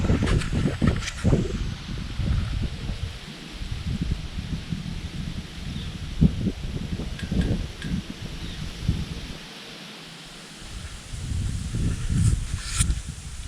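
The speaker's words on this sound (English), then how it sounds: "it's still incredibly windy" Strong wind gusts through Missouri woods in late-season cold, rustling leaves and buffeting the microphone in uneven surges that rise and fall for several seconds.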